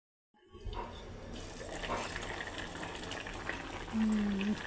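Liquid is poured into a pan of hilsa fish and taro curry, starting with a splash after brief silence and continuing as a close, bubbling pour and sizzle, with faint talk underneath.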